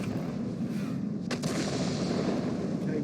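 A 21cm howitzer on the G.W. E 100 self-propelled artillery fires in World of Tanks, one sharp blast near 1.3 seconds rising over a dense, steady rumble of battle noise.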